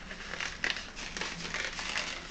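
A paper handbag gusset pattern being folded along a scored line, giving short close crinkles and soft paper rustles over about two seconds with no talking.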